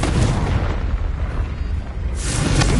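A Confringo blasting spell goes off in Hogwarts Legacy, a dense, loud rumbling boom that fills the whole clip, swelling again near the end with a bright crackling burst.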